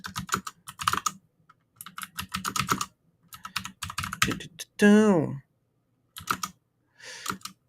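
Rapid clicky keystrokes clatter on a computer keyboard in short bursts, mixed with a voice making sliding vocal noises and brief sounds between the typing runs.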